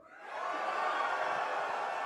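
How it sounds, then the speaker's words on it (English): A large convention audience cheers for the Horde, a broad, distant roar of voices swelling after a quiet start and holding steady for about two seconds. "That's the biggest reaction I've got from the crowd"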